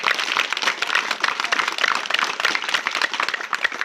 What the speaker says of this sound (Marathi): मग जोरदार टाळी आता वाजू स्वतःसाठी जोरदार